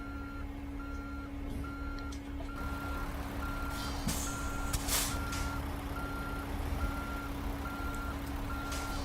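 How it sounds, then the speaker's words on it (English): A truck in American Truck Simulator reverses a trailer of 23 t concrete sleepers, its steady, evenly spaced electronic beeps repeating over a constant low engine drone, with a brief air hiss midway. "Kind of having to reverse a little bit on the blind side here."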